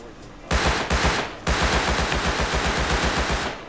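Automatic gunfire in the modded video game Rust, loud and close, with a short opening burst, a second brief burst, then a long rapid sustained stream of shots.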